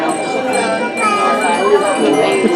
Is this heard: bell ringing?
yes